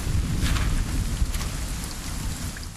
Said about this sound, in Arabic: كل ما نستطيع فعله هو الجلوس منتظرين توقف المطر.